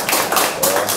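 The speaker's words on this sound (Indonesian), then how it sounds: "tepuk tangan dulu dong, Fred." A short burst of hand clapping from a small group, a few seconds of brisk, steady claps with no voices.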